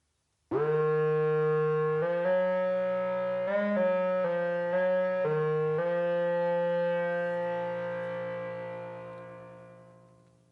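A reedy, buzzing FM patch on a Korg Volca Modular, oboe-like, plays a short melodic line of sustained notes, bright and nasal, ending on a long held note that slowly fades.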